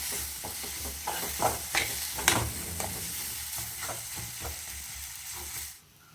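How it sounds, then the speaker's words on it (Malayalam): Tomatoes frying in a pan for a squid roast and stirred with a spoon, a low steady sizzle with irregular scraping strokes, close and continuous, then cutting off abruptly near the end. "തക്കാളി ഒന്ന് നന്നായിട്ട് വെന്ത് അത് ചേരണം അതുവരെ നമ്മൾ ഇളക്കി കൊടുക്കണം"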